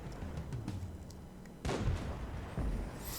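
A leFH18B2 self-propelled artillery gun firing in the World of Tanks video game, a heavy booming blast midway through, followed by a rumbling tail and a second dull thud, over a quiet game soundscape.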